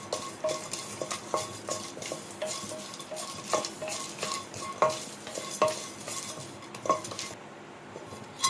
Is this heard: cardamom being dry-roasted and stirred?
yes